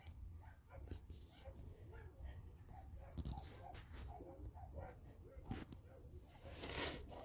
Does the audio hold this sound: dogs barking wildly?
yes